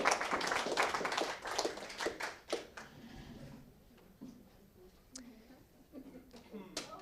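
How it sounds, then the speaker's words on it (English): An audience at a journalism results event claps warmly for contestants on stage; the applause is strong at first, thins out after a couple of seconds, and gives way to scattered claps under nearby talk. "And they deserve a warm, amazing applause"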